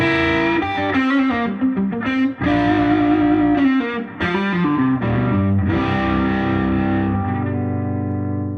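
Distorted electric guitar rings out through an amp, playing sustained chords and notes with a crunchy, saturated tone, close and loud, fading at the end.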